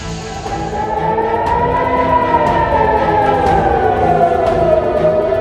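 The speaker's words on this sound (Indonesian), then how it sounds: "suara sirine peringatan serangan udara di Bandara Ben Gurion, Israel" A loud, steady air raid siren wails continuously at Ben Gurion Airport, Israel, its pitch slowly rising and falling, with faint background noise beneath.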